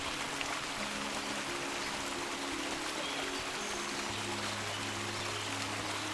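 Water rushes steadily along, a continuous broad hiss of an overflowing stream with a faint low hum underneath and no voices.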